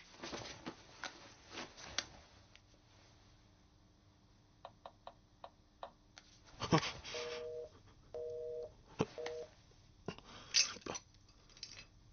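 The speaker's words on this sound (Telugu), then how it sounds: "ఫోన్." A telephone busy tone beeps in three short bursts midway, among clattering dishes and kitchen knocks.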